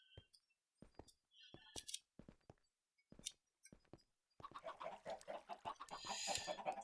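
Chickens on an anti-lag chicken farm in a video game give faint, scattered clucks with pauses, then a denser, busier patch of clucking and clatter near the end.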